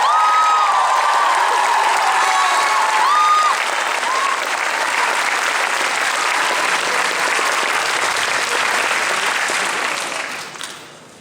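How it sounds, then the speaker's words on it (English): Loud, dense applause from a fan convention Q&A audience, sustained clapping with a few brief tonal sounds early on, holding steady before fading out near the end. "Big round of applause for Zoe Palmer, Lauren."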